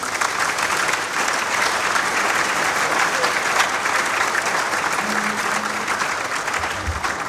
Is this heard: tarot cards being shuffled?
no